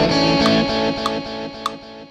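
Distorted electric guitar chords ring out with a repeating delay echo set faster than the song's tempo, its repeats clashing against the playing, giving a cluttered, smeared rhythm.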